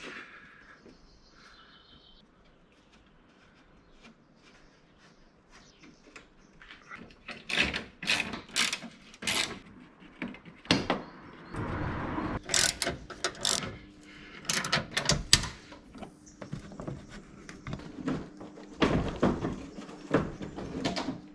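Screws being backed out of the front grille of a Toyota RAV4 D4D, heard as bursts of ratcheting and small mechanical clicks that start faint and grow busier and louder in the second half, with no talk.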